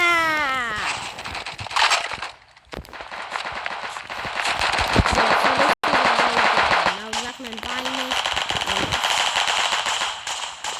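A sakura shotgun fires in rapid bursts during a Flag Wars video game match, with loud repeated blasts, tonal game effects and a brief cut-out midway.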